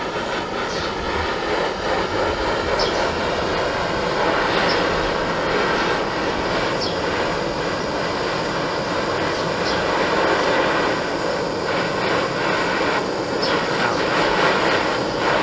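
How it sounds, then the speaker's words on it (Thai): A canister gas torch heats the neck of a car exhaust pipe with a loud, continuous roaring hiss that holds steady throughout, no voices. "แล้วก็จะใช้แก๊สกระป๋องนะ ในการให้ความร้อน คอท่อนะ"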